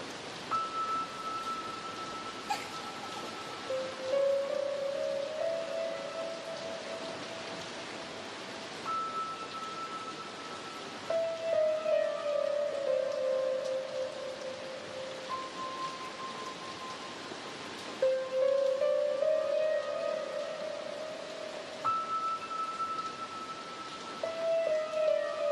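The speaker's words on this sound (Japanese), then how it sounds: "雨、当分止みそうにありませんね。" Steady rain falls in a dense, continuous hiss that holds an even level throughout, while faint, repeating sustained tones drift underneath.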